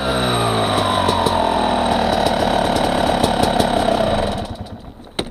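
A motorcycle engine fitted with a SmartCarb SC2 carburetor and Q9 metering rod runs loud and close, with a rough, knocking idle that holds steady, then the revs drop near the end before a sharp final blip.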